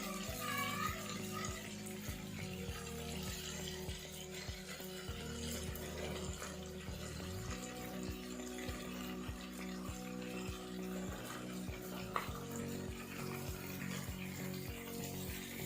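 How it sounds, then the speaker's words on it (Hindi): Chicken and vegetables frying in a pan over a medium flame, a steady sizzle with faint stirring and clinks running throughout. "अब हम इसके अंदर अपनी सारी वेजीज ऐड करेंगे"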